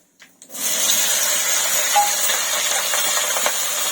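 Chopped onion hits hot oil already holding cardamom, cinnamon, cumin, chilli and bay leaves for a home-style mutton curry, bursting into a loud, steady hiss of sizzling frying that continues after a few faint clicks.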